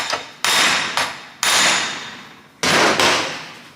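Four loud, ringing hammer blows driving a Volvo wheel bearing land close up at an uneven pace, each one decaying before the next.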